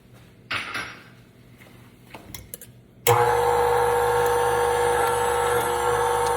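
Electric mixer beating eggs and vanilla into batter: after a few quiet clinks and handling noises, the motor switches on abruptly and runs as a loud, steady whir with a constant pitched hum until the end.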